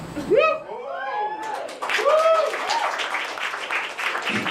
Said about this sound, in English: Only in LA would only 3 people clap for that